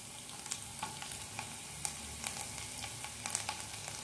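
Chopped ginger and garlic fry in hot oil, a soft, continuous sizzle with faint crackles and a few light pops throughout, fairly quiet, with no voices.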